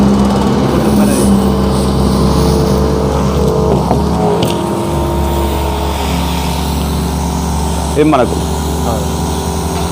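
A battery-powered sprayer's motor runs steadily and close by, a continuous buzzing drone that holds through the whole stretch while someone talks over it.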